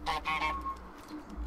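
A cartoon goose in Untitled Goose Game honks several times in quick succession, bright nasal calls up close, then trailing off into quiet background noise.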